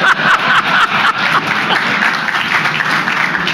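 Crowd applause during a radio-hosted gun control debate, a short burst of many hands clapping close and fairly loud, with a few chuckles mixed in.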